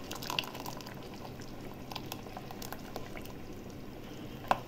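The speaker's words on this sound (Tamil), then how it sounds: "இந்த ஸ்டேஜ் நல்லா குழம்பு கொதிக்குது" A pot of spinach tamarind gravy with coconut bubbling on the stove, making a continuous soft simmering burble with small pops and one brighter bubble burst near the end, quiet and close.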